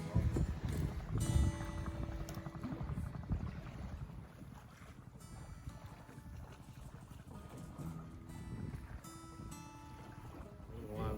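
Nordica 16 sailboat running downwind, with steady wind buffeting the microphone and water rushing along the hull, loud at first and then easing, continuous with no voices.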